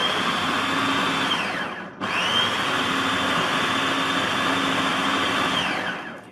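A food processor or blender grinds meat, potato, onion, parsley and pepper for kofta, a steady loud whirring motor that cuts out briefly after two seconds and then runs on.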